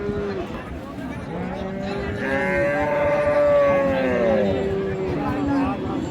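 Cattle at the busy Raniganj livestock market in Dinajpur give a long, loud moo over a steady murmur of crowd chatter and people talking nearby.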